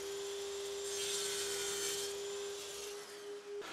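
A plastic PVC lid being cut by hand, heard as a steady, faint rasping close up with a constant hum running underneath.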